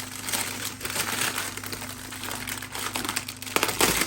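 A sharp knife cuts away a stuck plastic bag with close, continuous crinkling and rustling, broken by rough scraping bursts that grow louder toward the end.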